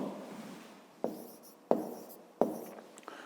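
A pen or pencil marks a number by hand on paper, giving three sharp taps or strokes spaced about two-thirds of a second apart, close and quiet, with a faint scratch between them.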